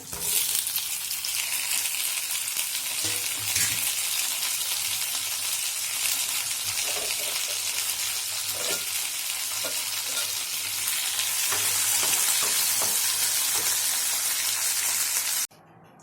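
Tomatoes sizzle and fry in a pan while being stirred, a steady broad hiss with scattered scraping clicks of the spoon, growing slightly louder near the end, with no voices.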